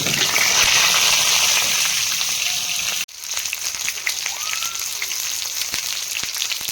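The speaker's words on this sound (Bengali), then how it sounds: "কড়াই তেল দিয়ে দেবো, আলুগুলো দিয়ে দেবো" Potatoes fry in oil in a wok over a lit stove, starting as a loud, dense sizzle. It cuts off abruptly partway, then returns as a softer, crackling spatter with scattered pops.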